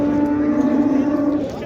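An ox at an Uzbek livestock market in G'ijduvon gives a single loud, sustained moo lasting over a second, close to the microphone with no talk over it.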